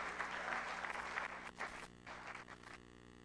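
A church congregation applauds the pastor as he is welcomed to the pulpit, a faint burst of clapping that thins out and fades within a few seconds.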